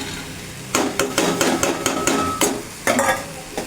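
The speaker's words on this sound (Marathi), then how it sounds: "तेलसुद्धा मी चांगलं परतून परतून घेते थोडा वेळ" Soaked val field beans stir-fried in hot oil in a pan, with a spoon scraping and tossing them in a quick series of about ten close, sharp strokes over a soft background sizzle.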